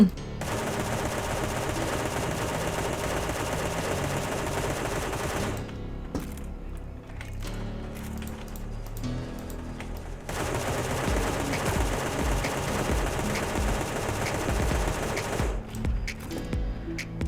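Dense, rapid automatic gunfire rattles almost continuously in the video game Sausage Man as players shoot at a dragon, with a few brief lulls that break up the loud, close bursts.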